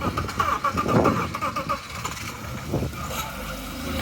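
A 1991 BMW E36 325i engine cranks and catches, a close rough starter churn followed by the engine settling into a low idle.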